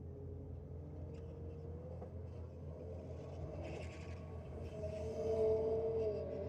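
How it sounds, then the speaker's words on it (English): A GR Yaris and a Mazda MX-5 drag race at night at a Sydney drag and burnout event: a steady engine rumble fills the air, swelling louder toward the end as the cars pull away. "Next up we have the GR Yaris down there in the rocket lane, taking on the MX-5."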